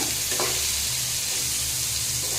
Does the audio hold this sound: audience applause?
no